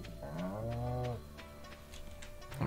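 A cow in the farming video game Stardew Valley lets out one low, drawn-out moo, clear and close, followed by faint ticking game ambience.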